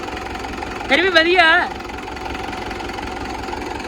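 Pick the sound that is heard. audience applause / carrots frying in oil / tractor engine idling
tractor engine idling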